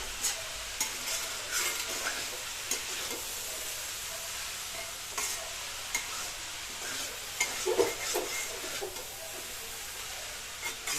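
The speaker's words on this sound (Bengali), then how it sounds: "তেল, লবণ, হলুদ ভালো করে দিয়ে নাড়িয়ে নিচ্ছি।" Cabbage fries in oil with salt and turmeric, producing a constant hissing sizzle broken by irregular scrapes and clacks of a stirring utensil. No one speaks.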